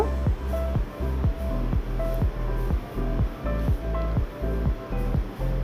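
Pieces of kakrol (teasel gourd) frying in oil in a pan, a loud close sizzle broken by rhythmic knocks of a spatula turning them, with no speech.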